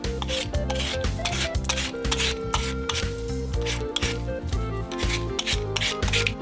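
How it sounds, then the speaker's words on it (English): Peeled potatoes are rubbed clean in a sink full of water, making a continuous rhythmic scrubbing and rasping sound, close and steady, with no talk. "We wash the dirt off of each potato"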